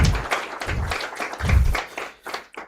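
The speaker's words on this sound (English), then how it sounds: "Another round of applause for Mr." Applause from dinner guests at a formal forecasting dinner, heard as uneven bursts of clapping that swell and fade, fairly close and moderately loud.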